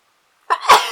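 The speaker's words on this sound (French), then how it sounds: "je vais encore éternuer" A single sudden sneeze bursts out after a short silence, loud and close, with a sharp onset and a breathy trailing release.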